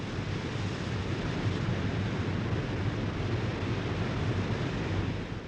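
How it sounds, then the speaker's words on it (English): Massive torrent of the Zambezi River plunging over Victoria Falls into the gorge, heard as a steady, dense roar of crashing water and wind-blown spray, loud and unbroken throughout. "the enormous volume of water crashing into the gorge causes such a tremendous updraft of air"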